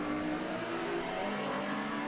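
Race car engines in Forza Motorsport 7 scream at high revs, a loud, sustained mechanical roar with layered engine tones and no voices.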